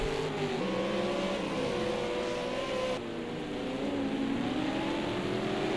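V8 Supercars racing round the track, engines droning loud and steady, pitch rising and falling as cars accelerate out of a corner, several cars close together and continuous throughout.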